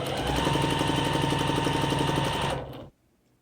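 A sewing machine runs steadily in a fast, even stitching rhythm while joining rows of a quilt top, loud and close, then stops abruptly near the end, leaving quiet.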